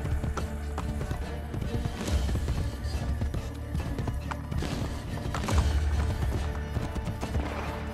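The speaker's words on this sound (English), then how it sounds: "Horse right here waiting for me." Horse hooves clip-clop in Assassin's Creed Brotherhood, a steady, close trot layered over busy game sound with a few louder thumps.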